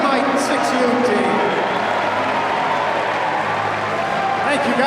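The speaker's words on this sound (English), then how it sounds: "Have a nice round of applause for the Bethlehem Yukon Mighty Mite 6U team." Crowd applause fills an ice hockey arena during a college men's game, a continuous roar of clapping and cheering that holds steady throughout.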